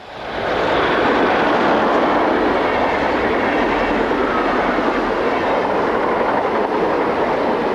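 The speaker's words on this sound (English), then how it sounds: "(110-143) is glimpsed heading a southbound motorrail service along the Rhine Valley north of Rüdesheim." A DB Class 110 electric locomotive heads a southbound motorrail train along the Rhine Valley north of Rüdesheim, a loud, sustained roar of wheels and rolling stock passing close by, steady for the whole stretch.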